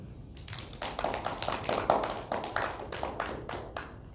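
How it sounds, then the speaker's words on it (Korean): A high-school youth congregation at a church winter retreat service claps together, a dense burst of hand claps that swells and then thins over a few seconds inside the hall. "박수"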